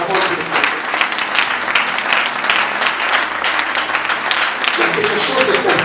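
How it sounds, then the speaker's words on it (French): A church congregation claps together during a Sunday service, a dense, steady wash of applause that holds at full strength from start to finish. "We clap for the Lord."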